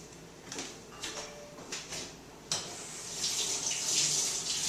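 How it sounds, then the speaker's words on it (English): Cut asparagus gets rinsed under a kitchen tap: a few soft knocks and handling sounds come first, then running water gushes steadily and grows louder toward the end, close by. "I'm going to rinse this."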